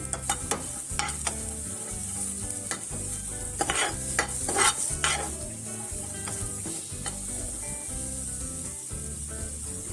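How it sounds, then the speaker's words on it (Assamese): Onion, ginger, garlic and chili dry-fried in a pan with no oil, giving a steady soft sizzle broken by repeated scraping strokes of a spatula stirring the mix, close and alone. "পিয়াজ আদা নহৰু জলকীয়া গোটেইখিনি অকণমান ৰঙচুৱা হোৱালৈকে ভাজিব"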